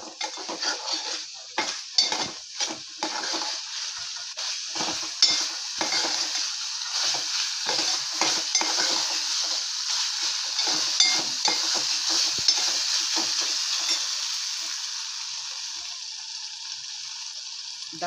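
Soaked chana dal tossed into sautéed tomatoes in a pan, with a steady sizzle under repeated scraping and clinking of a spoon stirring against the metal, close and continuous.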